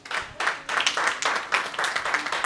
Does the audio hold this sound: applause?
yes